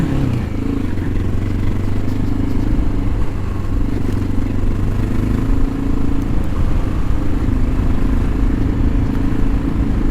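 A Honda XR650L single-cylinder dual-sport motorcycle cruises along a bumpy road, its engine thrumming at steady speed with a low, continuous rumble, wind buffeting and occasional clatter from the bike over the bumps.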